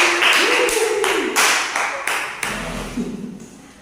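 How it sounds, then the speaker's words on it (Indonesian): Students in a classroom give a short round of clapping for a classmate, a few distinct bursts of hand claps with light voices underneath, tapering off within a few seconds. "Berikan dulu tepuk tangan untuk temannya."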